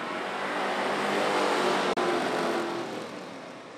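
A field of full-fendered street stock race cars roars away at the start of a Saturday night race, engines loud and sustained, swelling and then fading slightly as the pack moves off.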